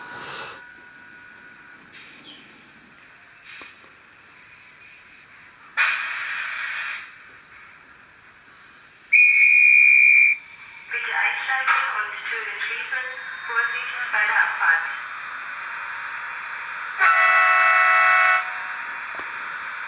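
Electronic sound effects from a Fleischmann model Taurus electric locomotive play in bursts: horn-like tones, a sustained high whistle and whirring motor noise, with someone talking between them.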